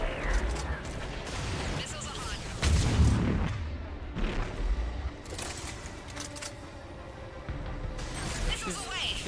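A missile launcher firing in Mass Effect 3 during a battle on the Asari homeworld, with heavy booming launches and rumbling blasts under a speaking voice amid continuous combat noise.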